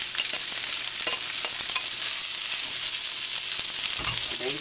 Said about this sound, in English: So you put your rice in there, and you can hear the sizzling.